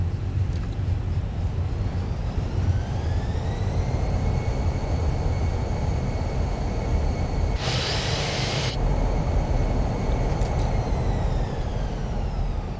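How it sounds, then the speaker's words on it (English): An Airbus A320 in a flight simulator game brakes on the runway after touchdown with reverse thrust: a steady loud engine roar with rising whine tones, plus a brief hissing burst partway through. "To brake and reverse thrust."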